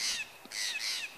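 Crows cawing among tall pine trees in a California forest, three harsh caws in a row, fairly close and clear with a short gap between the first two, and no talk.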